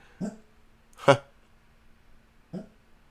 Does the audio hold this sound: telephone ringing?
no